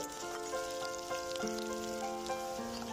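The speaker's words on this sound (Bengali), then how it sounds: "সবার আগে মূলোটা আমি দু এক সেকেন্ড নাড়াচাড়া করে নেব" Radish sizzles in hot oil with dried chillies and cumin, a soft steady frying hiss with light stirring clicks, close and fairly quiet, no talking.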